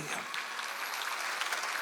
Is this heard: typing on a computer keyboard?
no